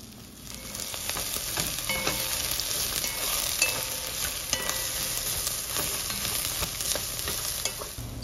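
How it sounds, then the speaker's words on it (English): Onions and peeled, chopped eggplant stir-fried in hot oil for a spicy eggplant curry, a continuous close sizzle and crackle with scattered spatula scrapes, no voices. "Stir fry the eggplant and onions for 5 minutes"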